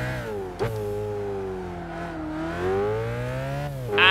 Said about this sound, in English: I think our Ford GT probably will need like an engine rebuild or service at some point